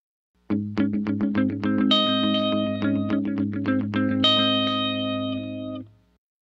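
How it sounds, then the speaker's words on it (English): Plucked guitar notes repeat through a grainy lo-fi digital delay from a Strymon pedal, set to dotted timing, echoes stacking in a quick rhythm before fading out at the end. "This is the sound of the delay on its own."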